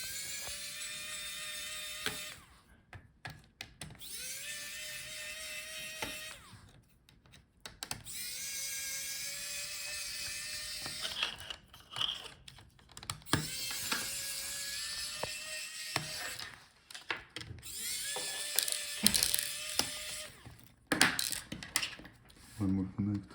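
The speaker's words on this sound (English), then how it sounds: "now let's take out all the screws" Screws being removed from an HP Omen 15 laptop during a teardown, with a small electric screwdriver whirring in repeated runs of a few seconds, interspersed with faint metallic clicks and handling noise, close up.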